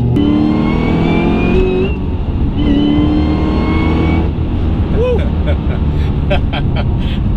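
A high-horsepower American car accelerates hard, its loud engine note climbing through rising, shifting tones with a brief dip between pulls; a voice talks over the engine in the latter part.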